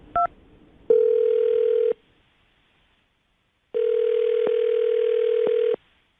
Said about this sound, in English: Let's dial the phone number right now.